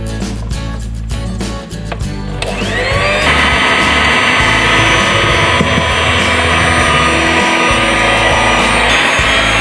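Electric stand or hand mixer kneading Japanese milk bread dough with milk added gradually: quieter clatter at first, then a loud, steady motor whine that starts abruptly and holds continuously to the end.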